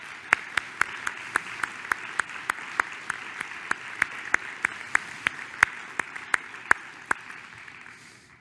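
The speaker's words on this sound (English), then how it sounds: "please join me in giving him a round of applause" A conference audience at a scientific society's presidential address claps steadily, a dense, even wash of many hands with sharp, regular claps standing out on top, lasting throughout and tapering slightly at the end.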